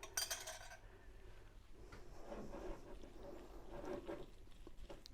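A spoon mixing dill into mayonnaise in a bowl gives a quiet, close clinking and scraping that runs steadily for a few seconds, with a brighter clink at the start.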